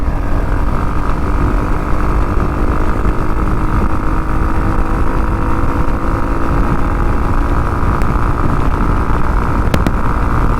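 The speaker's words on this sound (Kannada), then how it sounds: "ಸಕ್ಕತ್ತಾಗಿದೆಯಪ್ಪ ಎಕ್ಸಾಸ್ಟ್ ಸೌಂಡು ಕೂಡ" A steady, loud engine drone runs throughout, a motorcycle exhaust held at a constant rumble with little change in pitch.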